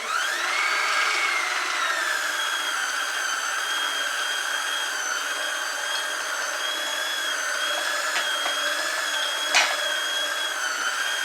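Electric mixer blending oatmeal chocolate chip cookie dough, a steady loud whirring motor hum that runs throughout with a brief clatter near the end.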